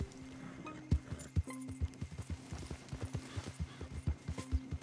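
Hooves clip-clop at a steady walking rhythm as a horse is ridden in Red Dead Redemption 2, close and fairly quiet, with a brief whinny-like tone among the regular hoofbeats.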